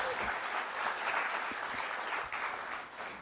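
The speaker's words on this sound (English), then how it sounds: "Y'all supposed to clap for that, because you got to clap for that." A library speaker-series audience in Malibu breaks into dense, sustained applause, many hands clapping steadily at an even level throughout.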